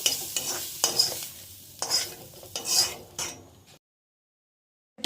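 Dried fish and onion are stirred in a frying pan with rhythmic scraping strokes and a light sizzle, ending in silence after about four seconds.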